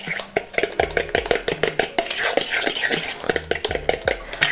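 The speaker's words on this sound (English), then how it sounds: "I'm just gonna whisk the sugar in as well, just until it's combined" Sugar is being whisked into banana donut batter in a bowl, making quick, close, loud rhythmic clinks and scrapes of the whisk against the bowl with no talking.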